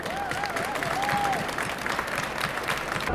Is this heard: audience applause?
yes